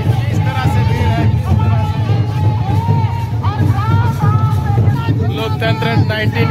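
Dense, loud crowd hubbub fills a tribal unity rally in Ranchi, Jharkhand, with many overlapping voices and occasional cheering from the crowd, steady throughout.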